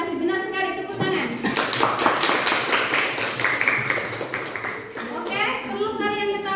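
Classroom clapping during a chemistry lesson, a burst of hand claps from a group of students that swells and fades over several seconds, with a teacher's voice talking before and after.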